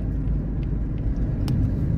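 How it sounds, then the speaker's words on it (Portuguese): A car rolls along a nearby street in a coastal town, a steady low engine and tire rumble that stays fairly loud and constant for a couple of seconds, with no one speaking. "o carro passou ali na rua que não pode virar"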